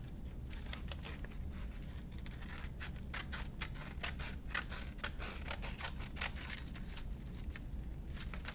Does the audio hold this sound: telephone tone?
no